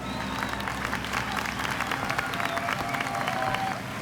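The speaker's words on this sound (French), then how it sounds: "Applaudissements, applaudissements." An audience applauds a contestant in a competition, a continuous full round of clapping with a light crowd murmur beneath it, fairly even in loudness throughout.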